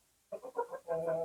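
Chickens on an Indonesian poultry farm cluck in a quick run of short calls, close and fairly quiet, with no talk over them.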